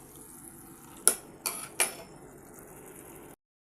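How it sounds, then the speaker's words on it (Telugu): Marinated chicken is stirred into tomatoes in a pot for a curry, with three sharp metallic clinks of a spoon against the pot over quiet background noise. "ఇప్పుడు దీన్నంతా బాగా కలబెట్టేసుకోండి"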